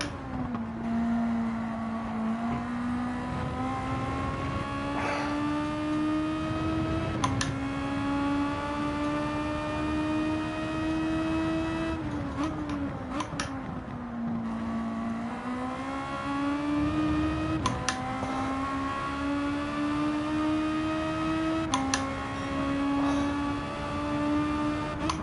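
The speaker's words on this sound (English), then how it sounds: "I can't hear you because this car is too noisy." Noisy car engine droning in Gran Turismo 7, a loud sustained whine that rises and dips with throttle and gear changes across the whole stretch, with brief shifts breaking the tone.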